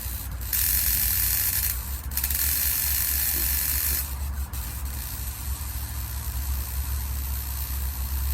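Wasps and hornets get zapped on an Eliminator electric bug zapper, giving bursts of harsh crackling buzz that start and stop in several seconds-long stretches over a steady low hum, fairly close and with no talk.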